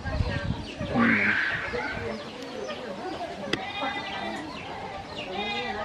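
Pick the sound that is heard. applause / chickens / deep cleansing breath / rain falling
chickens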